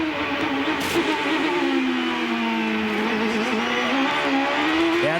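A 2007 ChampCar open-wheel race car on a qualifying lap at Surfers Paradise, its high-pitched engine screaming and shifting in pitch as it accelerates and revs, loud and continuous, with a faint whine over the top.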